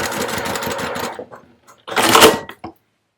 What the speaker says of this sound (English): I am going to stitch right down that center line that we pressed in.